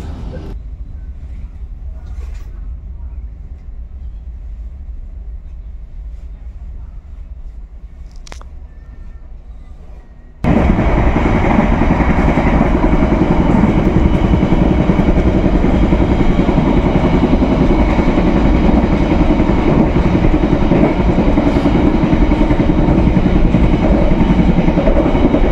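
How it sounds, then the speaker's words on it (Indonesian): The Kuto Jaya Selatan train at Kebumen station: after a quieter stretch of low rumble, a loud, dense wash of train noise abruptly takes over and holds steady, a close, continuous roar of the moving rail cars. "Jam 3:26, kereta api Kuto Jaya Selatan tiba di stasiun Kebumen"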